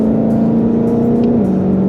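Ford Mustang Shelby GT500 with track package running at speed, a steady loud engine drone from the cabin that drops in pitch as it shifts gear from fifth to sixth.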